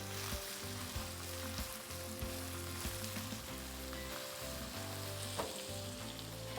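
Finely chopped shallots sauté in a pan for Chidambaram brinjal gothsu, giving a steady, close sizzle over a low, even hum, with no talking.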